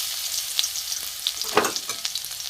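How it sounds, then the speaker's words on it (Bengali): Garlic sizzles in a little refined white oil in a pan, a steady close frying hiss broken by a few sharper crackles and a brief stirring scrape, with no voices. "রসুনটা একটু ভাজা হোক"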